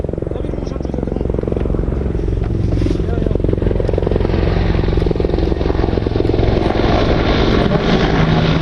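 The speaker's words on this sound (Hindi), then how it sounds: "कॉम्बैट एयर पेट्रोल में जमीनी लड़ाई के मैदान से ऊपर के इलाके के वायु क्षेत्र को हमारे अटैक हेलीकॉप्टर्स और फाइटर एयरक्राफ्ट डोमिनेट करते हैं।" Military attack helicopters and fighter aircraft flying a combat air patrol over the Ladakh area make a loud, continuous engine roar with a rapid rotor beat, while a voice speaks over it.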